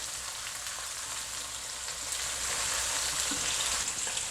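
Shallots with baking soda frying in a pan, a steady broadband sizzle that swells slightly partway through, with faint stirring scrapes and no talk.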